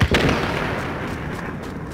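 A grenade blast bursts out loudly in the shooter game Tom Clancy's The Division, followed by a dense, sustained roar of rumbling noise that stays strong to the end.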